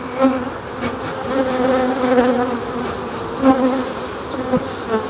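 Honeybees buzz around a hive frame in a steady, close hum with swelling and fading tones as individual bees pass near, with no speech.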